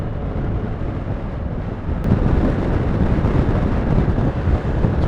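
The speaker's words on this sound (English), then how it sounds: "it's pretty breezy at the moment" Strong coastal wind buffets the microphone with a loud, continuous low roar that swells slightly midway and stays steady with no voices.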